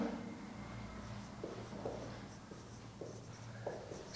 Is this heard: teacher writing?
yes